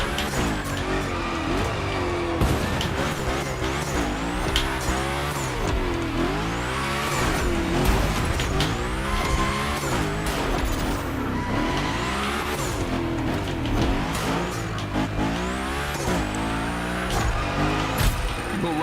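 A car slides through a gymkhana run in The Crew Motorfest, its engine revving hard and its tyres squealing in long sweeping skids that recur steadily for nearly twenty seconds, loud and continuous.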